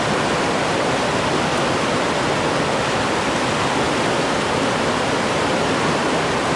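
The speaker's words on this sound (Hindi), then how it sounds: "जहाँ पर दरिया बिल्कुल साथ से बह रहे हैं" River flowing right beside a mountain road on a bike trip from Chakwal to Kel, Kashmir, a loud, constant broadband rush of water without pause, close and alone.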